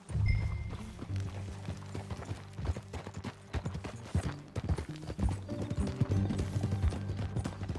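A horse gallops in Red Dead Redemption 2, rapid clip-clop hoofbeats thudding steadily and close throughout, with a brief whinny near the start.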